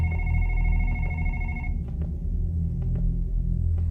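Telephone ringing in the horror video game One Late Night, a bright electronic ring sustained for about a second and a half before cutting off, over a low droning rumble that continues after, with faint clicks.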